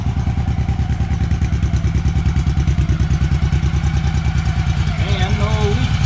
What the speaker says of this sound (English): we rebuilt the carbs, and it seems to be running much better now